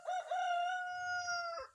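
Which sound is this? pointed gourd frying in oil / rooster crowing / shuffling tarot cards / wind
rooster crowing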